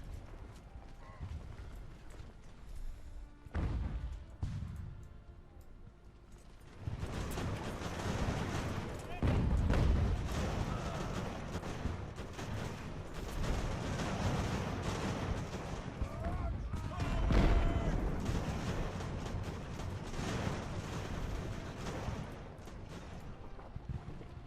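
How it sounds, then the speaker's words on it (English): Black-powder cannon batteries fire on a Napoleonic-era battlefield in Ultimate Admiral: Age of Sail, a dense stream of dull booms and crackling volleys rolling on for over twenty seconds, with speech talking over the battle noise. "And the artillery at least is firing."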